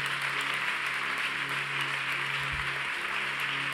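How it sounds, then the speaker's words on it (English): Worshippers in a church clap continuously, a thick, even spread of handclaps with no pauses or rises, filling the room without any talking over it. "Clap those hands, everybody."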